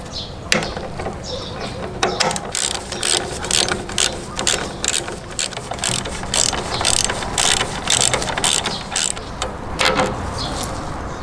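A ratchet fitted with a size 10 socket loosens the fuel tank bolts on a Suzuki V-Strom 800 motorcycle, sounding as close, repeated bursts of sharp clicking with short pauses between strokes.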